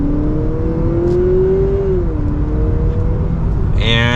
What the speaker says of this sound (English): And you can hear the engine a little bit